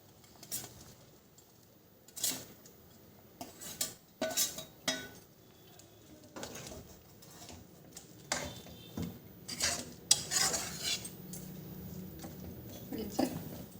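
Fried small fish go into a pot of boiling gravy and are stirred, heard as scattered clinks and scrapes of a spoon against the pot over a low bubbling background, with no voices.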